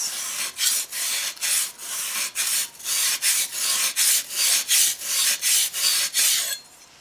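A mulcher blade is rubbed back and forth on a wet grinding stone with slurry, producing a steady run of close, loud rasping strokes in an even rhythm, about two per second, before stopping.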